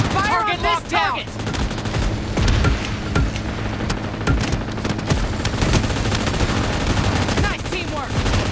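Rapid automatic gunfire rattles in PUBG Mobile's team deathmatch mode, loud bursts of shots overlapping continuously, with brief voice chatter near the start.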